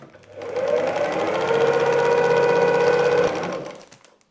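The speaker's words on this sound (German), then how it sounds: "und nähen locker bis zum Ende" A sewing machine stitching fabric onto a paper-pieced patchwork tangram cat block, running in one continuous, steady loud whir for about three seconds before slowing to a stop, close and without talk.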